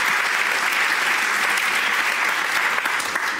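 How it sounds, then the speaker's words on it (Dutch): A live audience applauds four panel speakers after an open conversation at a Dutch debate event, a steady loud wash of dense clapping that holds evenly for a few seconds before easing slightly at the end. "geef ze een warm applaus voor dit open gesprek"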